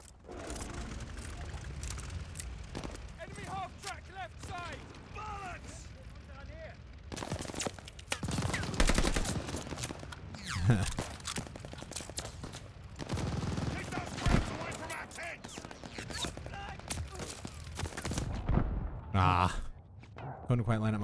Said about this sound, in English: I can still hear bullets flying